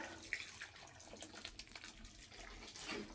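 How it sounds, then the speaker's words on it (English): Water poured onto a newly planted tomato in greenhouse soil, a soft, steady splashing and trickling, faint and close, lasting the whole moment without talk. "I'm gonna water it again."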